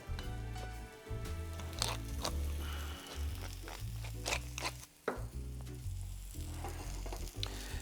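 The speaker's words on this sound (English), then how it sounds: "I'm just going to roast the mushrooms, finish them in a little bit of butter, salt and pepper" Hen of the woods mushrooms pan roasting, a steady loud sizzle with stirring and scraping, a few sharper clatters scattered through the clip, no voices.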